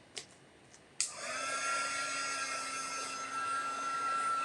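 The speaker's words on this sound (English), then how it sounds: "if you're all asking what this magic gun is, it's just a heat gun" Heat gun switched on after a couple of soft taps, its steady whining roar of hot air starting abruptly and running loud and unbroken to the end, with a faint tonal hum inside the rushing noise.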